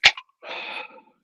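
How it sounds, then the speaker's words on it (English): An aluminium drink can cracked open during a Leicester v Newcastle football watchalong: a sharp crack and short pop, then a brief fizzing hiss, close and alone. "Crack another can open."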